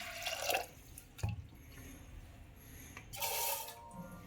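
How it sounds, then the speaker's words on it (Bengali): Water is poured into a pot of lentils for egg tadka, heard as a splashing pour, a thud, then a second longer gush of liquid, close by and moderately quiet, with no voices. "এবার আমরা এতে জল দিয়ে দেব।"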